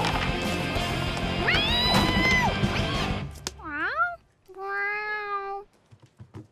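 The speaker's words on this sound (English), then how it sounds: "Well, where did that cat come from?" A cartoon cat meows twice, clear rising and falling cries in a classroom scene, following a stretch of busy music and sound effects.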